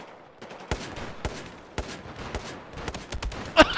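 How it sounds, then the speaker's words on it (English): A CBJ submachine gun fires in the video game Battlefield 4, with several sharp, punchy shots in uneven bursts and clusters over a low, busy game background. "That fast rate of fire on the CBJ."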